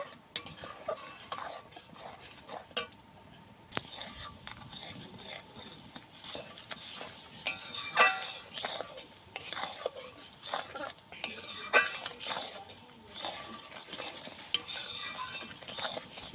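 Mustard paste for raw mango kasundi is stirred together in a pot, with a spoon scraping and clinking against metal in uneven strokes over a soft background hiss, fairly quiet and close.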